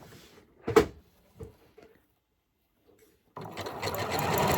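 A sewing machine stitching: a few brief clicks and thumps, a pause, then a steady close whirring run of the needle.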